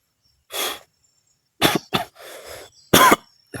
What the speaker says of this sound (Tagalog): Grabe yung ubo.